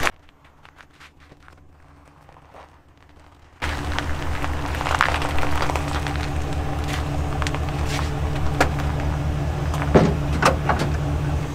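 A pickup truck idles and rumbles as it backs up toward a pull plow, its engine starting abruptly after a quiet stretch and then running steadily nearby.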